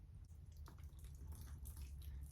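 Water pouring from a child's small watering container onto a potted banana tree, a soft trickling splash with low background rumble, no talking.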